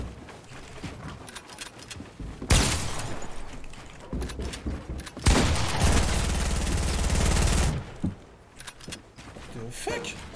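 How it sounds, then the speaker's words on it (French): Minecraft pickaxe strikes landing by themselves, heard as bursts of rapid, evenly spaced clicking hits, with the longest run lasting a couple of seconds and standing out loudly over a quieter, busy game background. "Il y a des coups de pioche tout seul."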